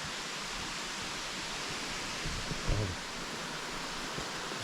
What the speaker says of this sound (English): You can see the water dripping off of those rocks.